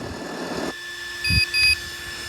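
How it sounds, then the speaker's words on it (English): Two short electronic beeps from an ESS Dual sound module in an Axial SCX6 RC truck, a quick pair, sound clearly over a steady low engine hum. "The 2 beeps mean it's gone back to sound number 2."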